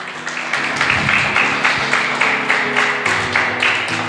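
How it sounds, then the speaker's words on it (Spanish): A church congregation claps during a Spanish-language sermon, a steady rhythmic clapping in unison at a moderate level that carries on for a few seconds. "Dale un aplauso al Señor."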